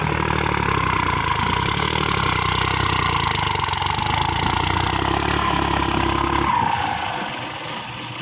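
A turbo diesel John Deere tractor engine runs steadily and loudly at close range with a deep, rumbling idle, then quiets and drops in level near the end.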